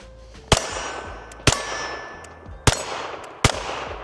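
A Smith & Wesson M&P 22X pistol fires CCI .22 ammunition in four sharp, loud, close cracks spaced roughly a second apart. Each shot is followed by a short ringing decay, and no one speaks.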